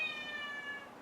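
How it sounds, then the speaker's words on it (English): A house cat cries with one drawn-out, wavering meow, fairly soft and close, with no other sounds around it. "My cat just continues to cry and cry and cry"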